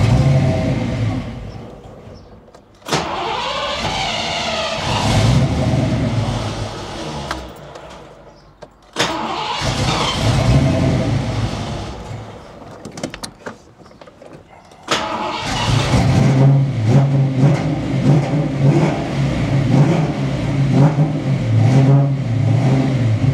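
A Foxbody Mustang engine settles at a steady idle around 1,000 RPM, broken by a couple of brief restarts or revs, with a loud, even rumble close to the microphone.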